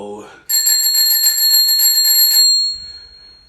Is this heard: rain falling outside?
no